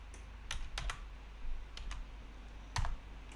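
Keystrokes on a computer keyboard entering a command in a Tcl shell: a handful of sharp clicks in small bursts with pauses between, close and fairly soft over a low steady hum, no voices.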